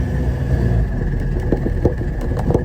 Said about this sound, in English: Get some revs on.